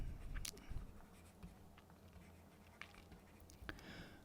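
Faint scratching and tapping of writing on a board or paper during a physics lecture, soft irregular strokes with a few sharper taps in a quiet room.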